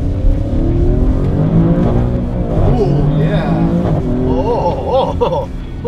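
Maserati Grecale Trofeo exhaust heard from the rear seat, a loud rising engine note under accelerating tones while people talk over it.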